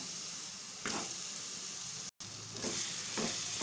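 Boiled chicken is frying in a pan with chili powder and garam masala, giving a brief, soft, close sizzle with a couple of stirring scrapes and a short dropout partway through.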